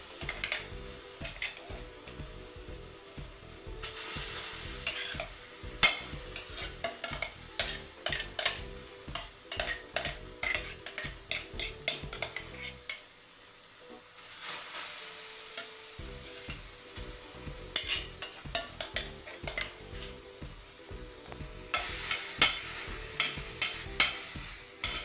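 Smooth ground amla paste for murabba is stirred in a pan over heat, giving a soft bubbling sizzle broken by frequent spoon scrapes and taps, with a brief lull partway through.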